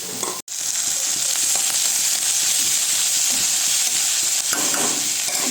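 Taro stolons with shrimp are stirred in a hot pan, giving a loud, steady frying sizzle and hiss with occasional scraping stirs. A brief cut breaks it near the start.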